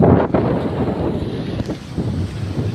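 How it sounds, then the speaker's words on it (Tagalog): Wind buffets the microphone outdoors on a boat in Agno, Pangasinan, a steady loud rush with a sharp gust near the start and no talking. "Tignan mo yung hangin, damahin mo."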